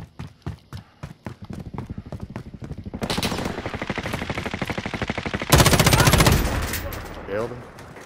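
Rapid automatic gunfire in Call of Duty: Warzone, sharp single shots building into sustained bursts and a louder close volley near the end, with no talk over it.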